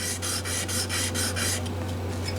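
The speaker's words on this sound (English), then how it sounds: "Little drop of oil, 250 grit, I'm sorry, 2500 grit sandpaper." Fine 2500 grit sandpaper, wet with a drop of oil, is rubbed in quick rhythmic strokes along a guitar neck, giving a steady close rasping that fades after several passes.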